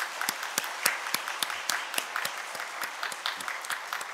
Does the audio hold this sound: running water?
no